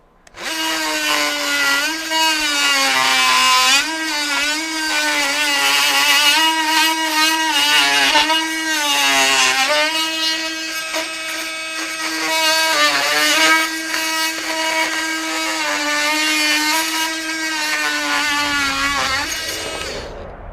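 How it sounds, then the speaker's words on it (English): A Milwaukee 2526 M12 FUEL cordless oscillating multi-tool cuts with a Japanese-style blade toothed on top and bottom layers, giving a loud, continuous high-pitched buzzing whine whose pitch wavers under load before cutting off at the end. "I believe this is like a Japanese style blade where there's teeth on the top layer and on the bottom layer. And let's see if it cuts quicker."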